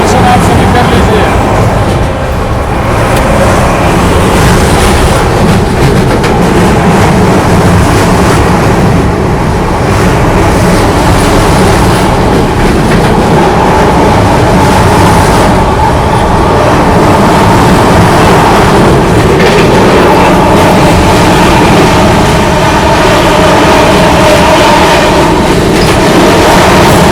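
The Vikramshila Superfast Express from Anand Vihar to Bhagalpur runs past another train near Prayagraj, a loud continuous rumble and clatter of wheels on rails heard from inside the coach, steady throughout with rushing air.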